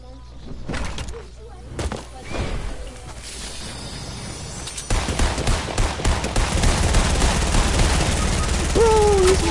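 Rapid bursts of gunfire in the battle game Fortnite, loud and dense, building into sustained volleys through the second half, with voices talking over the shooting.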